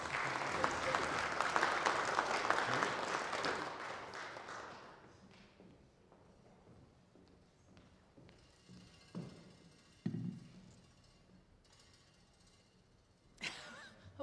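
Audience applause welcomes Dr. Pamela Eisenbaum to a church lecture on the Apostle Paul at Montview. It starts as loud, dense clapping, fades after about five seconds into quieter room noise, and a few isolated taps and bumps follow.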